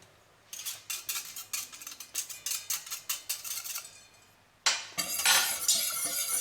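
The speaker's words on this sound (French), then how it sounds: "je vais commencer à délayer avec mon fouet" A whisk clinks rapidly against a bowl, blending egg cream mixture in a steady rhythm of bright metallic strokes, close and clear, pausing briefly before a louder, busier burst of whisking.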